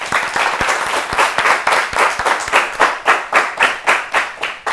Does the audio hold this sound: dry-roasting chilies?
no